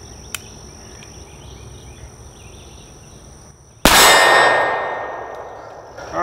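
Shots from an M17 pistol strike steel target plates. A faint early ping is followed later by one loud, sharp clang that rings out and slowly fades, with no talking.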